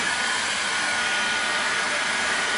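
A heat gun blows hot air onto plastic film at close range, a steady, even, broadband whooshing roar that holds constant throughout without talk.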